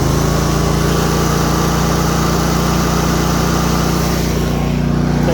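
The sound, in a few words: Cub Cadet RZT zero turn mower engine revving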